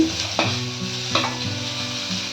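Onion going into hot oil in a pan, a steady frying hiss with two distinct clattering drops as pieces are added, over a low continuous hum; nobody speaks.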